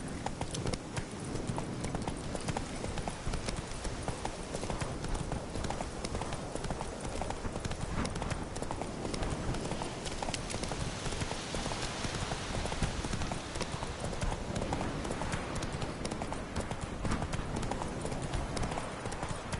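Hooves of a horse in The Witcher 3 clip-clop continuously at a brisk, even pace over a dense, loud game soundscape, with some speech mixed in.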